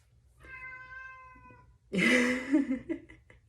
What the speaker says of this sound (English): That's my little black cat, Hex.